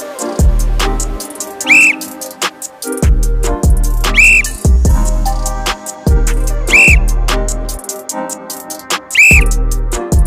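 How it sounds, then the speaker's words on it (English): A coach's whistle sounds during Cuban boxing reaction drills, four short, shrill blasts spaced a few seconds apart, each over loud, steady thumping music. "The next drill is on the whistle blow"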